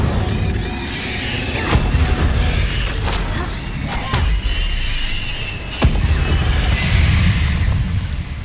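The Incendio fire spell goes off in Hogwarts Legacy as a loud, roaring burst of magical flame with several sharp whooshing cracks over a dense, rumbling game soundscape.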